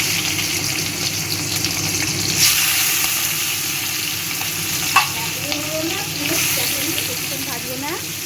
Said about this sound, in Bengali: আমি ভালো করে নেড়ে চেড়ে ভেজে নিলাম